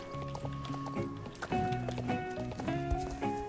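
Hooves clip-clop at a steady run for a video game horse, the starter mount, in rhythmic beats over layered game music and tones, close and continuous.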